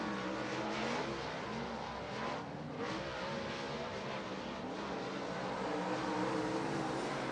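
Modified race cars lapping a dirt racetrack during a winter nationals event, a dense, continuous engine roar from several cars that swells and fades steadily, fairly distant and unbroken throughout.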